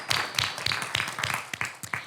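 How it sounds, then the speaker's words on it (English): A small audience gives scattered applause at a St. Louis program event, with quick uneven claps close together for a couple of seconds, sounding thin rather than like a full crowd. "So we can give her a round of applause."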